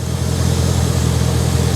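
A 2017 BMW M240i idles steadily up close, a smooth low engine hum with even, unchanging tone and no rattle or misfire standing out.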